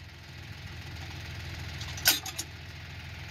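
A John Deere 5205 tractor engine drones steadily while pulling a harrow, a low continuous rumble with a brief sharp clatter partway through.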